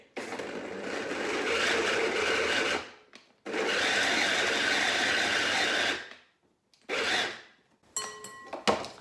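A six-blade food processor chops leftover vegetables in loud, sustained whirring bursts, two long runs followed by shorter pulses with brief silences between, heard up close without talk.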